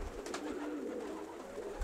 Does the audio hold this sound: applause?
no